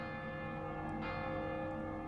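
Faint, steady ringing of church bells far off at Viviers, France, their sustained tones blending into a soft continuous hum.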